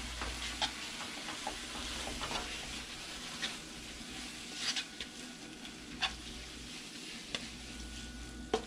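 Street-style noodles being stirred and tossed in a hot pan with garlic, a steady sizzle and frying hiss carrying scattered scrapes and clicks of the utensil against the pan, close and fairly quiet.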